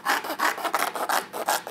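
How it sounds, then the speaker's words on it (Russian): A marquetry scroll saw fitted with a very fine jeweler's blade, teeth pointing down and always cutting downward, rasps through wood in quick rhythmic strokes, about ten raspy pulses in under two seconds, close and loud with no talking. "пилка очень тоненькая, ювелирная, у которой зубчики снизу находятся. И станок всегда пилит вниз."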